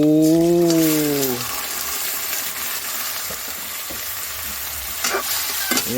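Native chicken cooks in a pan in an outdoor farm setting, a steady loud sizzle with occasional stirring clatters, after a short tonal voice at the start.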